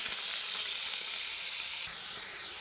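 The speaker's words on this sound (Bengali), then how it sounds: "দিয়ে চিকেনগুলোকে খুব ভালো করে এভাবে ভেজে নেব" Chicken mince fries in hot oil in a wok, giving a steady, loud, close sizzle that hisses without a break and softens slightly toward the end.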